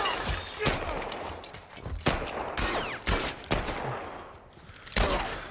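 Gunshots in The Last of Us, several loud sharp blasts at irregular intervals, some with a breaking, shattering edge, over a busy game background.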